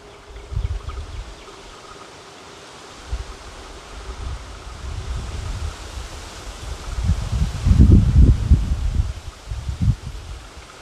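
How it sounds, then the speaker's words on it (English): Wind blows outdoors in low, rumbling gusts buffeting the microphone, swelling stronger toward the end over a steady rushing background. "Yeah, the wind's blowing pretty good."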